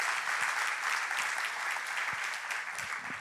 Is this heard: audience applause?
yes